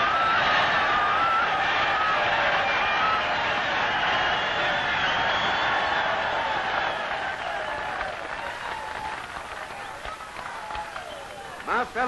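Political rally crowd in Georgia at four in the afternoon cheering and applauding as a speaker begins his address, a dense sustained roar of clapping and voices that thins out toward the end.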